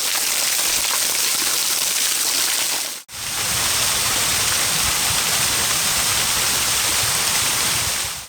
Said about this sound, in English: The main fall drops over a mossy sandstone ledge into a shallow pool